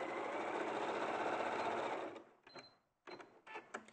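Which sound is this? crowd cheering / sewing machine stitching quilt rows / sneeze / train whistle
sewing machine stitching quilt rows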